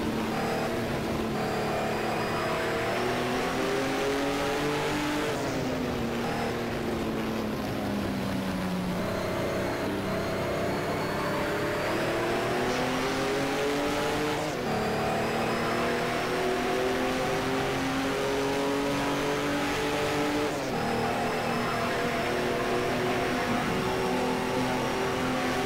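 A Porsche 935 race car engine in a racing video game, a loud droning engine note rising through the gears with repeated upshifts, steady and unbroken with no talk.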